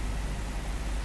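A low, steady locomotive engine rumble in the Train Sim World video game idles continuously with a broadband hum, no change in pitch throughout.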